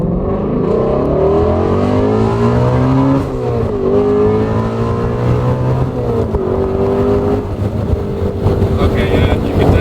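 A Ford Shelby GT350 Mustang engine accelerates while driving, its loud, steady drone rising and falling in pitch through gear changes, with wind noise around it and no voices over it.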